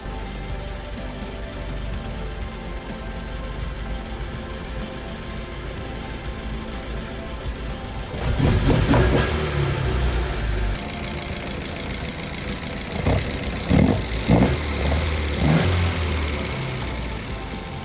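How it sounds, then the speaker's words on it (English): An Alfa Romeo Alfetta 2.0 Quadrifoglio Oro engine runs at a steady, smooth idle after its Solex carburetors are adjusted, then is blipped a few times, revs rising and settling, close by with no talking. "The engine feels much more responsive and idles much nicer."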